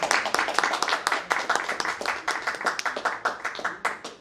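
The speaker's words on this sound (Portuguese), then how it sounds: "Você deu uma salva de palmas para elas" A room of people claps together at a playwright's book launch, with quick, dense claps that carry steadily through the whole stretch at moderate loudness.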